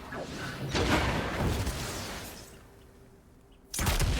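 A fire pot is struck and smashes in God of War Ragnarok, with loud crashing, booming bursts amid dense game effects, a brief lull, then another sharp loud burst at the end.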